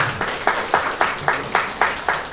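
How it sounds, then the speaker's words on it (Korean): A church congregation claps in unison for Taeyeon, with rhythmic, evenly spaced claps at a steady beat, close and clear, with no talking over them. "우리 태연이를 위해서 박수 한번 주세요."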